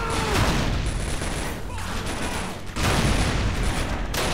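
Gunfire aimed at a heavily armoured tank in the Faces of War strategy game, a loud, continuous fusillade of rifle and machine-gun shots with brief dips in intensity.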